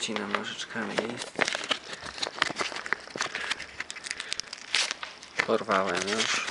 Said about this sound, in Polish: Rozcinam nożyczkami list.